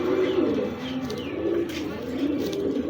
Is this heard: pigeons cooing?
yes